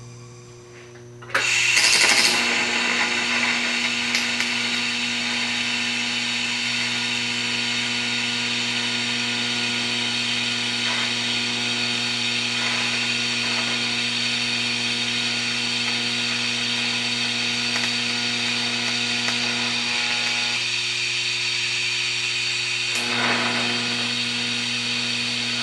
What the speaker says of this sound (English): I did a little bit of grinding